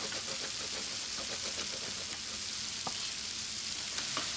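Lamb frying in a pan crackles and sizzles steadily at close range, with small pops and an occasional sharper click over the continuous hiss, and no talking.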